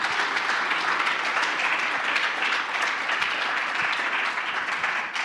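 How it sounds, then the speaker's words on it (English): A conference audience at a Bitcoin event in Medellín, Colombia gives a panel a sustained round of applause, dense and even throughout with no talking over it. "Give him one more round of applause"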